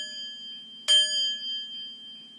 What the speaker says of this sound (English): Nice strong chimes.